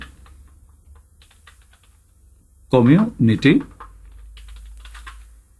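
Computer keyboard typing, soft quick key clicks running in short bursts at moderate distance, with a brief stretch of voice in the middle.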